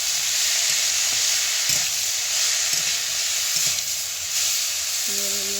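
Cabbage frying with a fish head in a pan sends up a steady, even sizzle, broken by a few soft stirring knocks and a brief tonal scrape near the end, with no talk.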